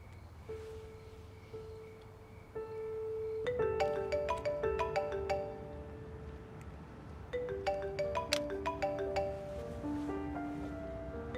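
An unanswered phone ringing as a melodic ringtone, a repeating pattern of bright tones that plays steadily at moderate volume over a faint hiss for several seconds.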